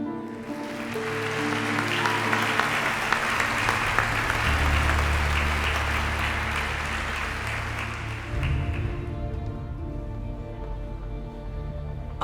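Warm audience applause fills a corporate event hall as a guest is invited on stage. A dense, steady clapping swells, holds for several seconds, then thins and fades toward the end.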